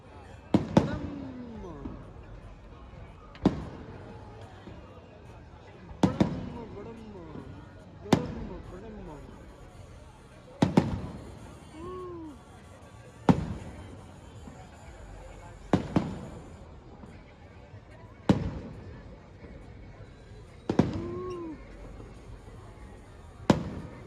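Fireworks burst one after another, about ten sharp bangs spaced a couple of seconds apart, each followed by a crackling, whistling tail as people talk nearby; includes a 50-star shell.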